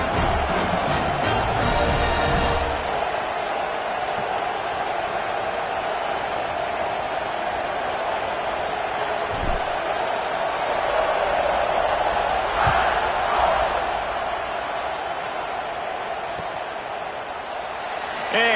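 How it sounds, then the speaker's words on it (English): A college football stadium crowd at an Alabama vs Clemson game keeps up a steady, loud roar after a score, a constant wash of noise under continuous commentator speech. "this crowd is buzzing after that last score"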